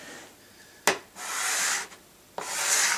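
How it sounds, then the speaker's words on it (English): A scraper drawn along a snowboard base during a home base repair, two long rasping strokes each about a second, preceded by a sharp tap, close and fairly quiet with no talking. "make sure when you're brushing it, the edge that you're scraping with is the last bit to go over the board"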